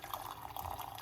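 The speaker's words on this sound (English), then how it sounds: "we are going to put some hot water, roughly about a cup of hot water" Hot water poured from a kettle into a pot for parsley and lemon tea, a steady close trickling splash that holds even and unbroken for about a second.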